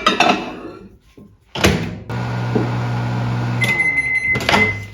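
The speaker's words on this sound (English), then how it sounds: "let's get these in the microwave" A door thunks shut, then a microwave oven hums steadily with a low drone, ending in a high beep and another clunk.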